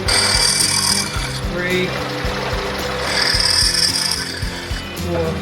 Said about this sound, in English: want to go ahead and drill our clearance holes for 632 screws